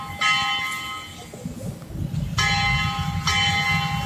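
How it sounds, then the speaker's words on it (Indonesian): Bell ringing outdoors on a morning walk toward a mosque, a few bright metallic strikes with long ringing decay over soft footsteps and street background, fairly near and clear. "Lonceng berbunyi"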